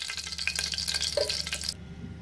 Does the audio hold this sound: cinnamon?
yes